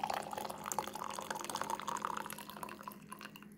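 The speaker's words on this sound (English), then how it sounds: "So what I'm gonna do, is to pour water here. So this is hot water." Hot water is poured into a pot for brewed coffee, making a faint, steady trickling and splashing that fades slightly toward the end, with no talk.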